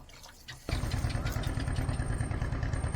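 A boat engine suddenly roars up close on a waterway in the Sundarban mangrove forest, then keeps chugging in a steady, rattling rumble as the boat passes alongside.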